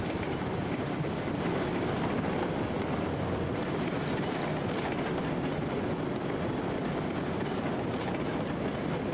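A locomotive rolls slowly along track in the Railroads Online game, a steady rumbling chug with rhythmic wheel clatter, continuous and moderately loud with no pauses.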